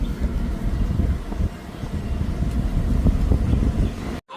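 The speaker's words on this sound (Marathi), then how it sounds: "एक गाडी आपल्या मागेच चालते बघू शकता" A car driving along a road just behind, heard as a continuous low engine rumble and road noise, fairly close and steady, with no talking over it.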